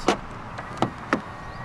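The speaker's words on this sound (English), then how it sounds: "To lock the car, press the indentation on any of the 4 door handles." Three short mechanical clunks of a 2019 Volvo XC40's door locks engaging via keyless entry sound close by at uneven intervals over a quiet background.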